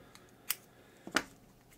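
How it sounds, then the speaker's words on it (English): Scissors snipping out flame shapes for a Hot Wheels C10 diecast car paintjob, two short crisp cuts, the second a quick double snip, close and fairly quiet in a still room. "Let me just get these cut out."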